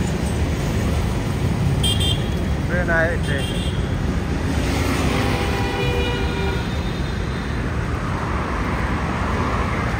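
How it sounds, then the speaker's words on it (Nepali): A train rumbles along an elevated track overhead in New Delhi, a loud continuous roar with horn-like tonal notes and squeals, mixed with street traffic noise, while a person speaks briefly nearby. "माथि रेल आयो गाइस। ट्रेन"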